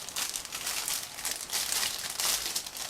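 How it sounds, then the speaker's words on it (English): A resealable plastic bag holding a 1/72 scale model kit's sprues being opened and handled, a close, busy crinkling and rustling that surges in several bursts with no talking. "it is packed into the resealable plastic bag, so I'm going to open it and take a closer look"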